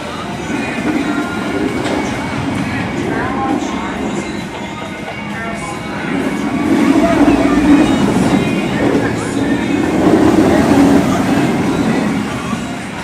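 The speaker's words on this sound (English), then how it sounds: "I have seen the train running, so I'm gonna wait, see what the wait is like." Talon roller coaster train at Dorney Park running on its track, a steady rolling rumble that swells louder partway through, with faint voices in the background.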